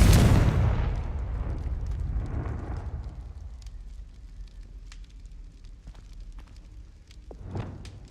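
A Confringo spell explosion in Hogwarts Legacy bursts loudly with a deep rumbling boom at the start, then fades into crackling fire and scattered small pops, with a softer thump near the end.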